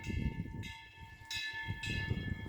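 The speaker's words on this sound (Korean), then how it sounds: "풍경 소리가" A Korean temple wind bell sways in strong wind, its clear sustained metallic tones struck repeatedly at roughly even intervals over a rumbling, gusty wind background.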